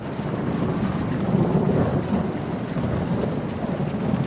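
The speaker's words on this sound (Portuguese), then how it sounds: "vão ter que encarar uma tempestade que, olha, quase destrói o celeiro inteiro" Heavy rain and rolling thunder from a storm in The Walking Dead that nearly tears a barn apart roar steadily and loudly, with wind buffeting throughout.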